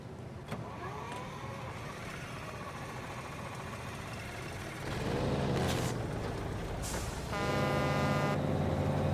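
A heavy truck engine in the video game Snowrunner rumbles steadily, revving louder partway through, with a mechanical hiss and a synthetic, game-like quality.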